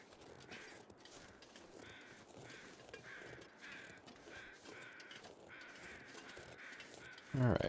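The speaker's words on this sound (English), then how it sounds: "I hear more crows over this way." Crows caw repeatedly in the snowy wilderness of the survival game The Long Dark, a steady series of fairly distant calls over a low wind bed, ending with a short loud crunch of movement.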